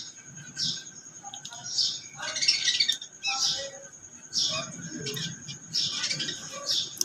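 Small birds chirp and squawk in repeated short bursts at a moderate distance over a low background hum, with brief pauses between calls.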